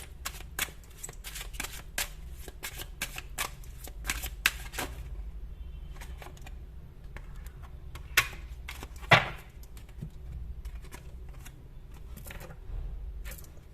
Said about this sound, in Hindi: मैं कार्ड शफलिंग में इतना टाइम नहीं लूँ